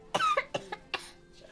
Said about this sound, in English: That's a pretty bad cough you have there.